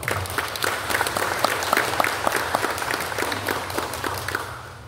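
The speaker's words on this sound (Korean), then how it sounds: "박수 한번 좀 부탁드립니다." Steady applause from an audience at a Korean redevelopment briefing session for Sibeom District 1, many hands clapping densely for the full stretch before tapering slightly at the end.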